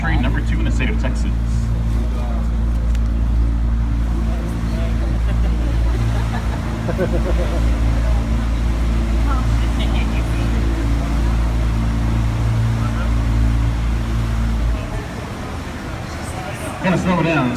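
A river tour boat on the San Antonio River runs with a steady, low engine drone beneath continuous close talk, easing to a quieter hum near the end.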